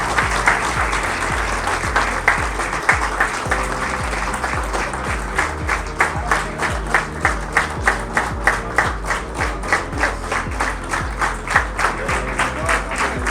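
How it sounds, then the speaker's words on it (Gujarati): Sustained audience applause at the Bizness Utsav 2024 business networking event: dense, steady clapping from a crowd, loud and close, running unbroken for the whole stretch. "તાળીઓનો ગડગડાટ ચાલુ રહેશે."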